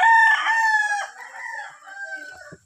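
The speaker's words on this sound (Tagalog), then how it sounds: "ang tapang ng mga manok nila" Rooster crowing with drawn-out harmonic calls, followed by softer clucking from farm chickens at a rural gathering in Tanay, close and fairly loud with no talk.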